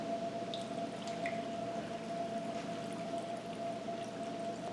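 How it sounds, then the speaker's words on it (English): Brine is poured into a jar of dill pickle cucumbers, giving a continuous, faint liquid pour with a steady rising tone as the jar fills. There is no talking. "the only thing to do next is add the brine"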